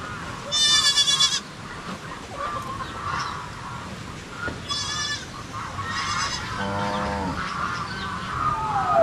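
Several goats on a farm bleat in short, harmonic bursts at about a second apart, with chickens clucking faintly in the background over steady outdoor ambience.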